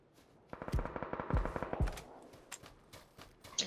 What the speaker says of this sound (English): Someone's shooting in front of me.